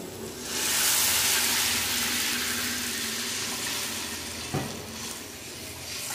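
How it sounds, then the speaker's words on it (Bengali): Water poured into spice paste frying in oil for a crab and potato curry raises a loud hissing sizzle that swells and then eases into a steady bubbling hiss, with one sharp clink partway through. "এখন জল দিয়ে দেবো।"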